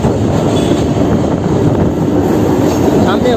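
A Kolkata Circular Rail local train rolls through the middle of the city, a loud, steady rumble of wheels on track with faint squeals and clatter, close and continuous.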